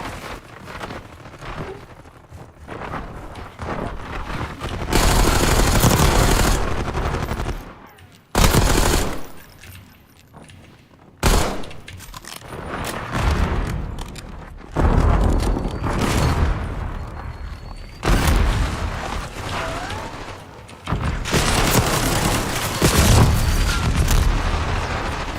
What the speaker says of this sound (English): I keep letting off the gun too soon.